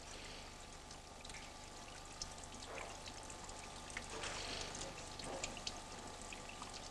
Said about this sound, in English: Next, it's washed in cold running water.